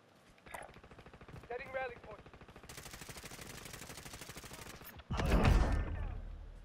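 Rapid automatic gunfire in Call of Duty Warzone, a sustained burst of close shots for a couple of seconds, then a heavier, louder blast near the end, with brief game sounds before it.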